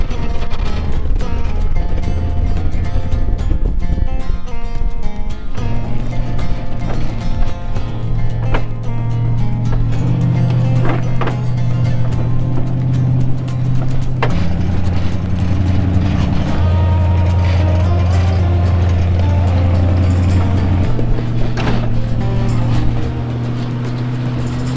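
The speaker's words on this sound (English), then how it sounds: "it's gonna be a noisy, bumpy, clunky ride out, but we're going." A damaged 2WD Toyota being hauled out over rough backcountry ground gives a loud, continuous low engine and drivetrain drone, with repeated clunks and knocks breaking through throughout.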